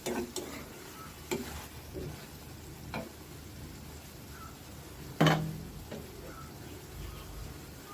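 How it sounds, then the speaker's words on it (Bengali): Taro and tilapia cook in a covered pan with a low, steady background, while a few scattered spoon scrapes and one louder clank of stirring stand out near the middle. "এবার ঢেকে রান্না করে নিব। মাঝে মাঝে একটু নেড়ে নিব।"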